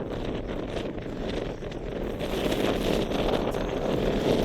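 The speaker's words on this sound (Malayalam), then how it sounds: "നല്ല കാറ്റ് വീശുന്നുണ്ട്, ആളെ പറത്തിക്കൊണ്ട് പോകുന്നതാണ്" Strong wind gusts across a misty hilltop viewpoint on the Nelliampathy hills in Kerala, a loud, continuous roaring rush that buffets the microphone and swells toward the end, with no talking.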